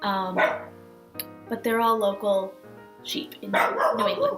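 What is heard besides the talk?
dog barking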